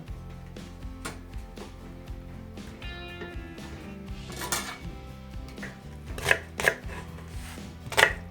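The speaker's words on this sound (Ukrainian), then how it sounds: "Цибульку я наріжу кубиками" A knife dices an onion on a cutting board, a run of quick, close taps with a few sharper knocks, while soft music plays in the background.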